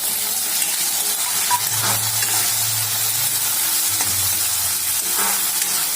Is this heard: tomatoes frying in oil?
yes